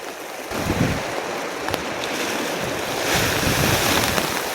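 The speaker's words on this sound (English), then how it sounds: "Man, how fast is that wind? Gotta be at least 60." Strong mountain wind at 11,500 feet during an elk hunt in Conejos County, a loud continuous roar buffeting the microphone in heavy gusts, swelling louder toward the end.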